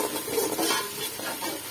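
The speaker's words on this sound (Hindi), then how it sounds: "भून लेंगे इसे अच्छे से, प्याज का कलर ज़्यादा डार्क नहीं करेंगे" Onions being fried and stirred in a pot for beef pulao, a dense close sizzle with spoon scraping against the pot throughout.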